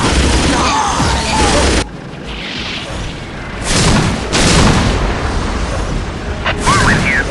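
Whirlwind artillery tanks fire in the Warhammer 40k Dawn of War video game, a dense continuous wash of booming battle noise with louder swells and bursts throughout.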